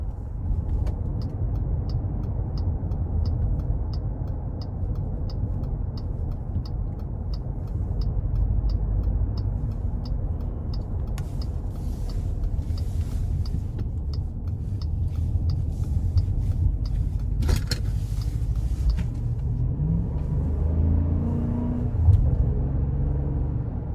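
Steady low rumble from a 2022 Wagoneer Series II's 5.7 liter engine while driving, a continuous cabin drone with road noise holding even throughout, plus a faint repeating tick and a brief clunk near the end.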